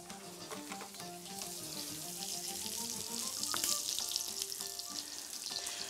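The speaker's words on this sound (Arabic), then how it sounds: "لما نيجي نغرف نقلب كويس قوي عشان نطلع كل حاجه من تحت." A ladle stirring and scooping food in a pot, scraping from the bottom with soft clinks over a steady sizzling, frying hiss, close and moderate in level.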